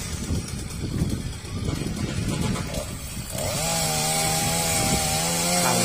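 A chainsaw makes the first cuts into a huge dipterocarp tree in an open field in Tra Vinh, starting after rough handling noise and then droning steadily and loudly close by.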